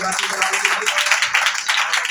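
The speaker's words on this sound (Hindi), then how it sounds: "जोरदार तालियां बजाएं।" A church congregation claps hard and fast together, a dense and loud burst of many hands that runs continuously and close by, with some voices mixed in.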